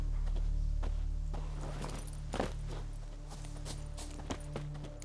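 Roach, the horse in The Witcher 3 video game, walking with soft, steady hoof clops at a moderate distance over a low constant ambient hum, with a few sharper steps standing out.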